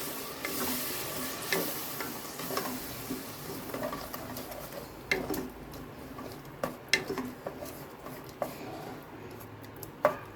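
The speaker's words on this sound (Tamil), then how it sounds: "இப்போ நம்ம அடித்து வச்ச தக்காளியை எல்லாத்தையும் ஊற்றிக்கலாம்" Ground tomatoes fry in a pan for tomato rice, a soft ongoing sizzle with scattered stirring clinks and scrapes, fairly quiet and close with no voices.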